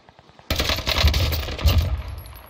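Gunfire in an online shooter video game: a sudden loud burst of rapid shots that starts after a short quiet lead-in and keeps going to the end, heard close with no talk.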